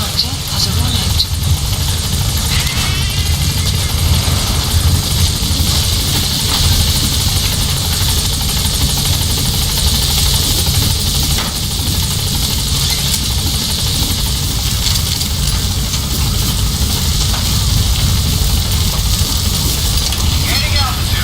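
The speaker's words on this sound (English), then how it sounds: "Support helicopter has arrived." A video game helicopter's rotor thrums loudly and continuously throughout, a dense mechanical roar with engine whine, while a voice speaks over it, from Metal Gear Solid V: The Phantom Pain.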